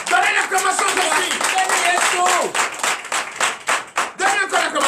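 Church congregation clapping in rhythm during a night deliverance service, loud and close, with a speaker or voices calling out over the sustained clapping.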